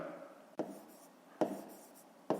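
A pen writes on paper during a fifth-grade maths exercise, a soft scratchy rubbing broken by three sharp taps. It is faint and close, and no one talks.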